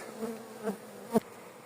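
Honeybees from a test colony drift around a hive frame in a bee yard, a soft continuous buzz with a couple of brief louder passes as bees fly close to the microphone.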